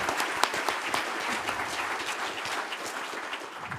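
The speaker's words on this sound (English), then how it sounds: "So a round of applause, please," Audience applause for the speakers at a science enterprise conference session, a dense, steady burst of clapping from a room of people lasting throughout, fairly even in loudness with no talk over it.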